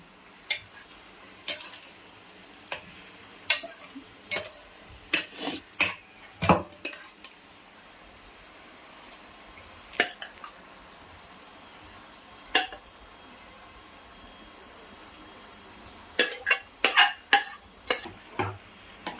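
A utensil stirs tomatoes and gongura paste frying in oil, giving bursts of scraping clinks against the pan over a quiet steady sizzle, with pauses between each round of stirring.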